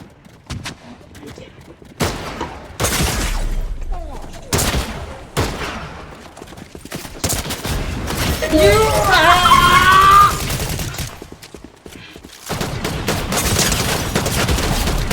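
Fortnite video game gunfire comes in several loud bursts of rapid shots separated by pauses, with a player talking over the action in between.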